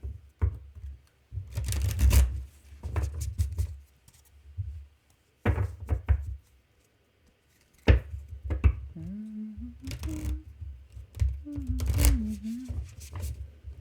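Bursts of riffling and tapping tarot cards being shuffled come in irregular clusters with pauses between, close and clear, and a short hummed voice partway through.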